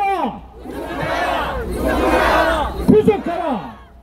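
Outdoor protest crowd outside the Supreme Prosecutors' Office chanting a slogan in unison, loud, rhythmic shouted phrases with a leader's voice and crowd response overlapping.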